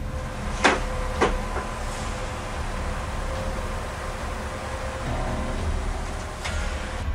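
Indoor door swinging shut beside a chest in a house, heard as a couple of sharp knocks early on, then a soft thud later over a steady hiss of background noise.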